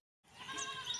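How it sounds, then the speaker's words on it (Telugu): Goats bleating on a farm in the morning, including a young kid, a short burst of overlapping nasal cries rising after a moment of silence and holding steady, fairly close and clear. "అదిగోండి మా మేకలు చూడండి"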